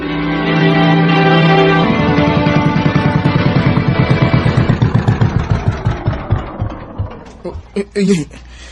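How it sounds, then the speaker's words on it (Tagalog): A small fishing pumpboat's engine runs with a steady rumble, then starts sputtering in chugging pulses that slow and grow uneven until it stalls into silence. "Nagka-problema man ang makina sa pambot. Patay-patay man ang andar."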